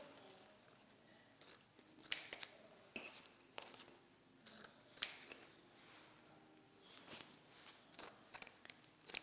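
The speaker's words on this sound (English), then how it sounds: "I'm just going to cut at an angle" Scissors cut a 1.5 inch ribbon at an angle, giving several sharp, close snips spaced irregularly over a quiet background.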